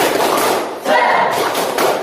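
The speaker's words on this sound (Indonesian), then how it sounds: "Tepuk semangat." A classroom of students performs the rhythmic tepuk semangat clapping chant, with a run of patterned claps and thuds nearby, a brief dip midway, then a renewed burst of clapping and voices.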